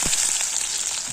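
Onions frying in hot oil for an Assamese fish curry, a steady loud hiss and sizzle throughout with faint stirring knocks.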